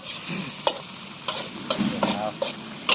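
Eel pieces being stir-fried with red curry paste in a pan, with repeated sharp scrapes and clanks of a spatula against the pan over a steady background sizzle, close and fairly loud, with no talking.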